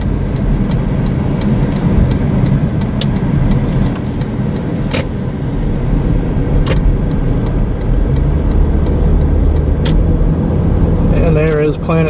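A car drives through a small Florida town, its engine and tyre rumble steady and close from inside, with occasional faint clicks and ticks over the road noise.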